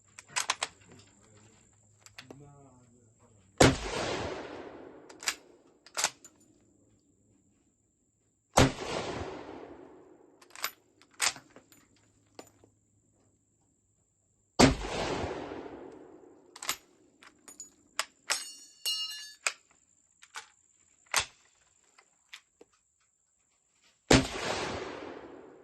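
Steyr-Mannlicher M95 rifle shots on a firing line, four loud, sharp near cracks spaced several seconds apart, each with a ringing decay, among scattered clicks and clatter of handling.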